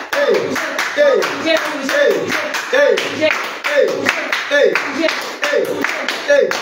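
Congregation at a French-language home prayer cell clapping in a steady rhythmic beat throughout, with loud singing and shouting voices over the claps.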